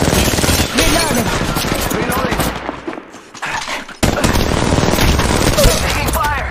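Dense rapid gunfire from the mobile battle royale game Apex Legends Mobile, loud and continuous bursts that briefly thin out before resuming at full intensity, with a voice speaking over the shooting.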